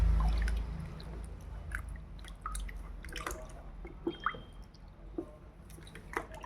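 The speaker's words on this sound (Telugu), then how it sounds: "నిమ్మ చెక్కలతో పాదాలని నీట్గా రబ్ చేయండి" Wet squishing and dripping as feet are rubbed with lemon peels in hot water, with scattered small splashes and drips, close and fairly quiet.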